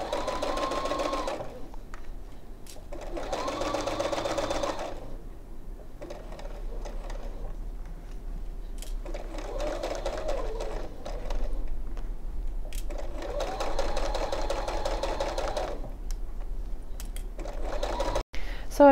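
A sewing machine stitches around the edge of a fabric make-up brush holder in several loud, close whirring bursts separated by short pauses, with a sharp click near the end.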